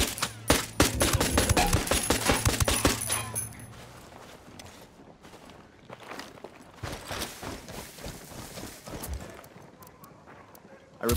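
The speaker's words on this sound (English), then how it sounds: "I'm opening fire." Gunfire in Ghost Recon Wildlands hammers in loud, quick volleys for the first few seconds, then turns into scattered, sparser shots, with voices talking over the action.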